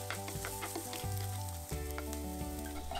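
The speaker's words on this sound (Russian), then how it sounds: "Лук нарезаю мелко и обжариваю на небольшом количестве растительного масла." Finely chopped onion sizzles and crackles in a little hot vegetable oil, a dense steady frying hiss with faint stirring scrapes beneath, while low background music plays.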